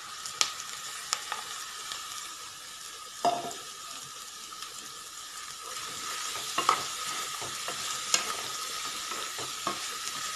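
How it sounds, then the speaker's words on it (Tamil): Bottle gourd pieces stir-fried with softened onions in hot oil give a steady close sizzle, with scattered scraping clicks of a spatula stirring through the pan. "இந்த ஸ்டேஜில் நம்ம கட் பண்ணி வச்சுருக்கிற சுரக்காவை ஆட் பண்ணிக்கலாம்."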